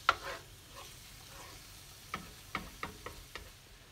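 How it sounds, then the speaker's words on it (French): Ground beef frying in a pan for spaghetti with beef is stirred, a faint soft sizzle broken by several light scraping clicks of the spoon against the pan. "Je bouge beaucoup la viande pour que la cuisson soit homogène."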